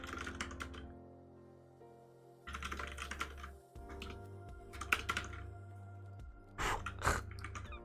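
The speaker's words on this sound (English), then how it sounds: "Keyboards all over the place today" Bursts of computer keyboard typing come and go close up, quick irregular clusters of key clicks separated by short pauses, over a low steady hum.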